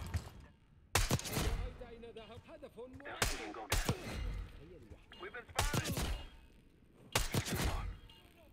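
An unsuppressed sniper rifle fires in Black Ops 6, sending out four sharp, loud reports spaced a couple of seconds apart, with someone talking between the shots.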